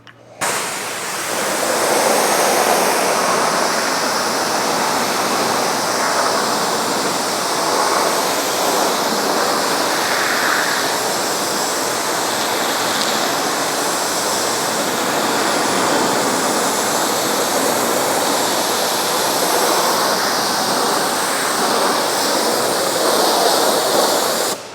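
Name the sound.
pressure washer rinsing a car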